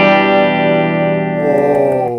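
Electric guitar played through a BOSS GX-1 multi-effects unit with only its amp simulator engaged, giving a natural, lightly distorted tone; sustained ringing chord with rich harmonics, loud and steady, decaying slowly with a fresh pick near the end, no voices.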